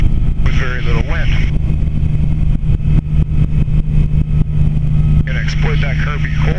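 A Bell 47 helicopter lifts off from a calm, windless spot. A loud, close engine drone carries a rhythmic rotor chop, and a voice talks over it at the start and near the end.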